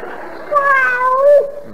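A cat gives one drawn-out, wavering meow at close range, rising and then falling over about a second, with a faint hum behind it.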